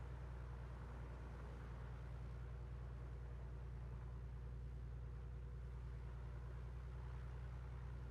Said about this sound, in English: I hope you can hear me okay over the engine sound.